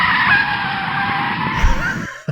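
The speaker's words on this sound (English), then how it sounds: "There's our extremely high budget sound effects that we got for pump the brakes" A loud tire screech from a skidding car under hard braking, one long continuous squeal that ends abruptly with a short thump.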